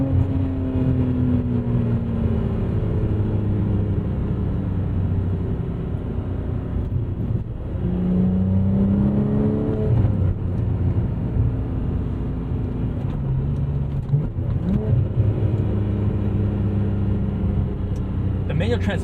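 A 2012 Porsche 987.2 Cayman R with manual transmission, its engine droning loudly and steadily with rising and falling harmonic tones as it revs toward a 7,600 RPM redline, with voices intermittently over it.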